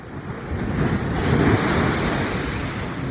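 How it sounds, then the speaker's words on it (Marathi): Sea water splashing and rushing against a fishing boat at sea, a loud, continuous wash of surf mixed with wind buffeting the microphone. "बघा एवढं पाणी मारतंय. खूप पाणी मारतंय."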